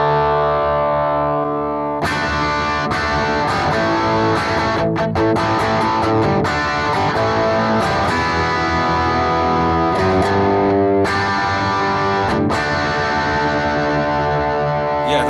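Distorted electric guitar played through a BOSS GT-1000 Plexi/Brit stack amp model, loud sustained chords and riffs with sharp pick attacks and ringing overtones, continuous for about fifteen seconds with no talking.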